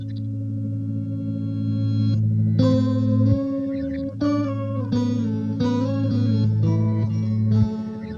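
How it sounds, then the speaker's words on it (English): An Empress Zoia pedal runs a granular delay with freeze engaged, holding a sustained low drone under layered guitar notes, while a faint choppy stutter repeats in the background at a steady moderate level. "you can hear that little bit that the freeze has caught, that stutter in the background."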